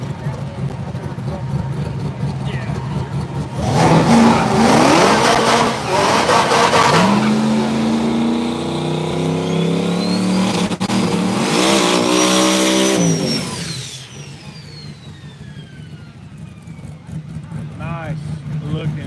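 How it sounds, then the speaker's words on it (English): Turbocharged black Chevrolet Camaro F-body no-prep drag racing at Southside Dragway, with loud roaring engine passes, rising revs and tire noise that fade into the distance, and an announcer talking throughout. "Here comes Schaefer in a big fat black Camaro."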